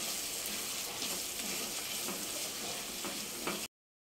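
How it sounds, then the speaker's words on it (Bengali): Potatoes sautéing with spices in a pan for egg biryani, a steady soft sizzle with faint stirring, cutting off abruptly near the end. "এর ভালো করে মশলার সাথে আলু কষানো হবে"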